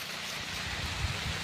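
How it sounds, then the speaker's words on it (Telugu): Steady heavy rain patters and hisses all around in a dense forest, with a soft low rumble beneath and no voices. "ఫుల్ వర్షం పడుతుంది"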